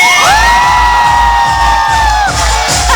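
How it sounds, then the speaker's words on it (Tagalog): Studio audience at a Filipino comedy show clapping and shouting together, loud and close, with rhythmic cheering and whoops carrying over the crowd noise for the whole stretch. "Pumalakpak po na may kasamang hiyaw nagsasabing pangit si Lassie!"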